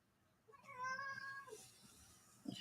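A cat meows in one drawn-out, rising and falling call, fairly close and clear, with a short second sound starting at the very end and no talking.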